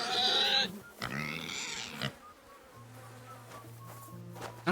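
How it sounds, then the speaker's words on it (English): Pigs grunting and oinking in the medieval video game Kingdom Come: Deliverance II, heard with a buzzing of flies or insects and a low hum, moderately close and without speech. "Not domesticated yet, huh? Pigs."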